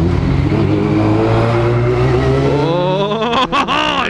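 A motorcycle's engine drones loud and close as it squeezes between a dump truck and a trash truck, steady and heavy, with pitch rising near the end and brief dips in the roar.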